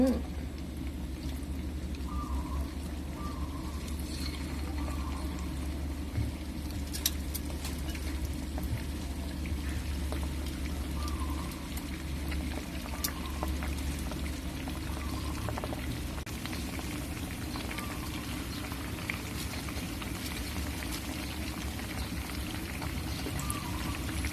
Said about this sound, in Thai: ตั้งน้ำมันเดือดแล้วเอาลงเลยจ้า ทีละชิ้น